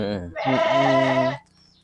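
Sheep bleating on a farm where rams are fattened: one loud, close, wavering bleat after a brief shorter call, then quiet.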